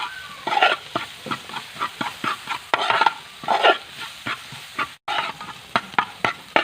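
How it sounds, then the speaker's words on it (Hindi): A spoon knocks and scrapes through a spiced vegetable omelette mixture in a pan, giving a quick run of sharp, close taps and scrapes in an uneven rhythm. "अभी इसको अच्छी तरीके से मिक्स करेंगे"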